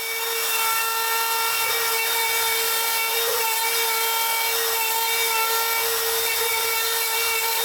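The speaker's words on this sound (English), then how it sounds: "I used a 1/2-inch pattern bit to hog out the mortise rather quickly" A router fitted with a 1/2-inch pattern bit cuts a mortise in MDF for a guitar stand, giving a steady, loud, high-pitched whine with a constant tone throughout and small shifts in pitch as the bit bites into the board.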